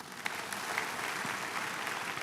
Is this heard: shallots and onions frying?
no